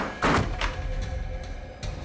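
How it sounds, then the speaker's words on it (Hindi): A door thuds shut inside a house during a CID crime drama episode: a single heavy, close impact over a muffled, reverberant room background. "दरवाजा क्यों बंद किया है?"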